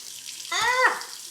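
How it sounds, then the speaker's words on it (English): Water from a sink tap splashes briefly as a person rinses their face with one hand, a short close gush that rises sharply and then trails off. "I can use this hand a little bit to splash water"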